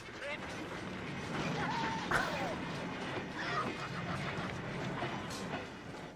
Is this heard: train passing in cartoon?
yes